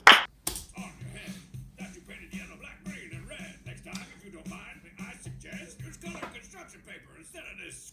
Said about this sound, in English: brought in the hand claps, just the claps